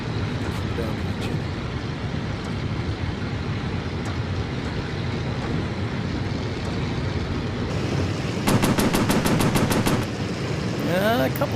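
Aircraft machine guns in the VR game Warplanes: Battles Over Pacific, a rapid rattling burst of fire near the end over a constant loud engine roar.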